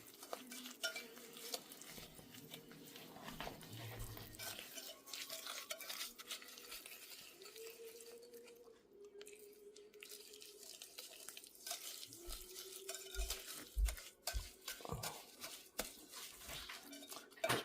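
A spoon stirs 1960s cake batter of sugar, oil and vanilla in a bowl, with repeated scraping and clinking strokes at close range in a kitchen and some intermittent louder knocks against the dish.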